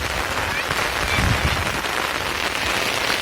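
Heavy rain falls in a thick, even wash of noise, pattering hard on surfaces close by, with a slight swell in the middle.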